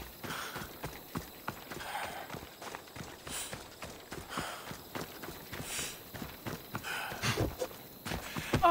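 Horse hooves in the video game Assassin's Creed Odyssey, quiet clip-clop footfalls in an uneven trotting rhythm, soft and somewhat distant against a light ambient background.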